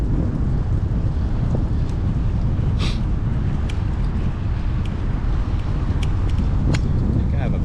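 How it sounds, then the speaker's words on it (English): A headwind buffets the microphone of a cyclist riding the East Coast Greenway near Savannah, a constant low roaring rumble with faint passing traffic and occasional light clicks. "Ooh, I got a headwind."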